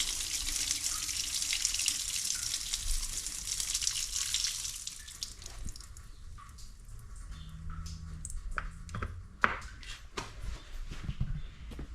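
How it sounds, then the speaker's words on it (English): Water draining out of dairy milking equipment after a rinse on a farm, a steady rushing flow that fades into scattered drips and small gurgles, quiet and close. "we gotta drain this because for some reason this always collects water"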